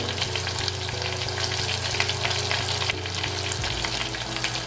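Green chilies fry in a pan for an Onam chili pachadi, producing a loud, continuous sizzle mixed with scraping stirring sounds up close.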